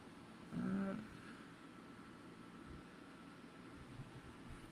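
Low, constant droning hum of an air conditioner running steadily in the background, with a brief louder tonal blip near the start.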